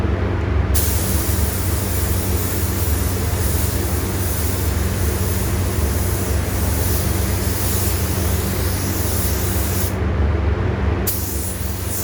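Steady close hiss of a spray gun laying down a mid coat of paint on Harley CVO motorcycle parts, a loud continuous airy rush with only brief breaks near the start and end.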